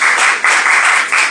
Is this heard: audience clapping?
yes